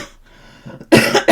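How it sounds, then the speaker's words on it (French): A cough bursts out after a quiet stretch, then a second shorter cough follows close to the mic, loud and sharp. "Excusez-moi pour la toux, encore."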